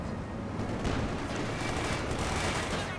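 Dense battlefield gunfire in Company of Heroes 2, machine-gun bursts and rifle shots piling into a continuous loud rattle with booming low rumble throughout.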